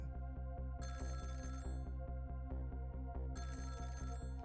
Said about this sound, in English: About 2 hours before dawn, the phone rang.